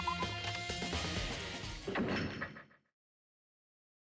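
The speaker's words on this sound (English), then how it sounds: "As soon as the door to the data center was closed, I heard a strange sound." In the video game Danganronpa, a heavy door slides shut and locks by itself with a loud mechanical rumble and clunk, then cuts to silence.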